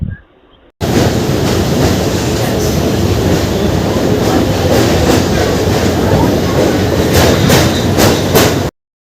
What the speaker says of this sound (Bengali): রিভার্স লাইনে আমাদের ট্রেনকে ওভারটেক করে যাচ্ছে